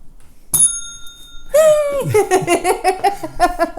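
A bright game bell from the Sushi Dice board game rings once with a lingering metallic tone, then excited laughter and squealing voices burst out right after it.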